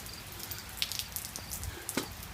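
Rain falling outside a garage at home, a soft patter with scattered light drips and taps over a faint background hiss, no voices.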